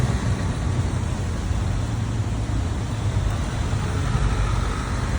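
Steady wash of night traffic on an Istanbul street, with cars, taxis and a Benz and Jaguar idling or rolling past in a continuous low rumble, no distinct single pass standing out.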